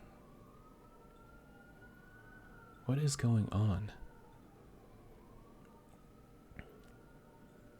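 Wailing alarm sirens in the Space Engineers survival game, a faint drawn-out tone rising and falling in the background through a game session with a meteor storm, partly covered by a short burst of a man's speech.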